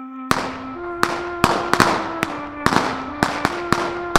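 Firecrackers bursting during the Tihar festival: roughly ten sharp, loud cracks in quick, uneven succession, each ringing briefly over a steady tonal background.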